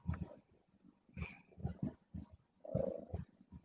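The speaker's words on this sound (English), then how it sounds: "You heard a cat purring and you come over." A cat purrs close by in a low, rough, continuous rumble with rhythmic pulses, alone and fairly soft.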